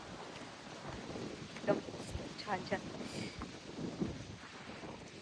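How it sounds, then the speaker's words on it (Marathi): Strong wind on a trek up Tandulwadi hill fort buffets the microphone as a low, uneven rumble with a few stronger gusts, while people talk over it. "टोपी पण वाऱ्याची उडून जात आहे, एवढी डेंजर हवा आहे."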